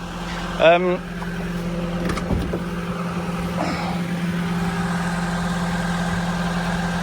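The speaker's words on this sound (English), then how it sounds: "I'm just waiting for them to finish dumping off the roller" A road roller's engine idles with a steady low drone while it is unloaded from a truck, close by and constant, with a brief voice early on.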